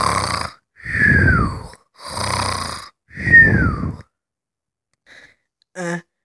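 A voice imitates a sleeper's snoring: four loud, drawn-out rasping snores in an even rhythm, close by, followed by silence and two faint short blips.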